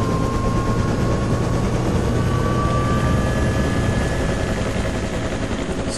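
A helicopter in the video game ARMA 2 Operation Arrowhead gives a steady, loud rotor and engine drone that holds evenly for the whole stretch, with a faint whining tone gliding above it.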